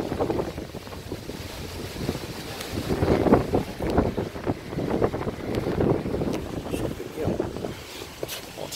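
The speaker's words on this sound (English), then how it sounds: "Very windy today." Gusty wind buffets the microphone with low rumbling bursts that rise and fall over a constant airy roar.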